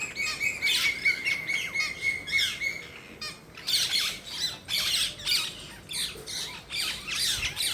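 Birds, likely parrots, squawk in green trees in the morning, with harsh repeated calls in quick bursts, close and fairly loud, plus a brief whistled note early on.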